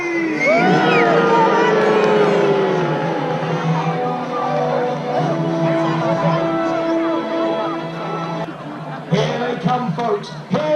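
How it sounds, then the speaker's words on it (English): A large outdoor crowd at a 1066 Battle of Hastings re-enactment cheers and shouts loudly and continuously, a dense roar of voices with whoops and children's cries that dips slightly near the end. "I don't care whether you cheer or boo, as long as you are vocal"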